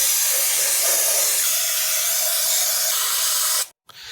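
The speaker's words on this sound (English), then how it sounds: "you want to spray this with the brake cleaner as well" A steady, loud aerosol spray of brake cleaner hisses continuously for several seconds while servicing a car differential, then cuts off abruptly with a brief second spurt.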